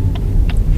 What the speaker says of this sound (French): Là, le moteur tourne un petit peu.